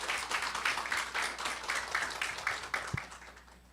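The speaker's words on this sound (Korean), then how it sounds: "힘찬 박수로 맞아주시길 바랍니다" A forum audience gives a speaker a round of applause. Many hands clap together and the sound slowly thins toward the end, with one dull thump near the close and no talking.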